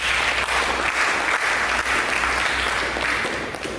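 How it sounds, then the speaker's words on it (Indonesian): Steady, dense applause from a church congregation fills the whole stretch, loud and unbroken, with no voices on top. "Mari berikan tepuk tangan bagi Tuhan."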